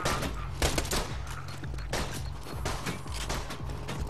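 Gunfire from the video game Borderlands rattles in a dense, continuous fusillade of overlapping shots, moderately loud, with no clear voice over it.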